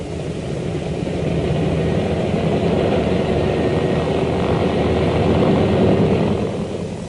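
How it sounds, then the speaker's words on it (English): WWII propeller-driven photo reconnaissance planes flying back to base, a loud steady drone of piston engines and airscrews that swells gradually and then eases, with no voices. "the planes raced back to their base with their high-priority cargo"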